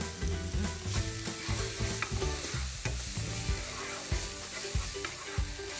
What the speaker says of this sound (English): we're gonna cook it down till the onions are just about translucent